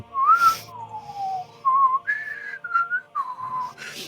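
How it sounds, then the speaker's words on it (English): Wavering, sliding whistled tones that bend between pitches in short phrases with gaps, loud and close, no speech. "you begin to hear this like very dissonant, like atonal whistling"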